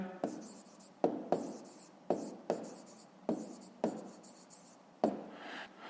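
A pen writes on paper in a fifth-grade maths exercise, quick scratchy strokes separated by sharp taps as the tip lands, about nine bursts in an irregular rhythm, close and fairly quiet with no talking.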